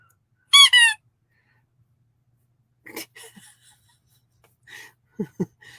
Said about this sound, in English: everybody's going to hear your squeaky ball all over the live this morning